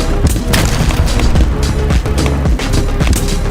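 A tank cannon blasts in the BattleBit Remastered shooter amid a constant barrage of loud booms and rapid gunfire, with dense, overlapping thumps and cracks running through the whole stretch.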